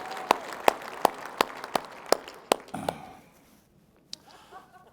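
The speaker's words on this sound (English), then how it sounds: "give these folks a big round of applause" At an association awards gala reception, about eight loud, evenly spaced claps ring out close by for roughly three seconds, then die away into a quiet room with one last stray clap.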